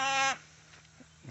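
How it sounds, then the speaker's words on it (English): A small lamb at a farm mill gives one short, loud, close bleat at the start, followed by quiet background with a faint rustle near the end. "That's not a goat. That's a lamb."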